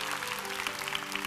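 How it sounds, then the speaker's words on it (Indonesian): A church congregation applauds in a steady, continuous wash of clapping with sustained hum underneath, fairly faint and even throughout. "Memberikan tepuk tangan yang keras bagi Tuhan dan Raja kita."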